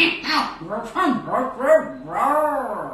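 A person's voice imitates a dog barking and whimpering in a rapid series of yips and woofs, close and clear.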